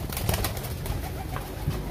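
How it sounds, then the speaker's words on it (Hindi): Pigeons in a cage coo and rustle softly, a few low murmuring calls over a faint steady background with no talking. "अब कबूतर थोड़ा घबरा रहे हैं कि ये क्या हो गया हमारे पिंजरे में"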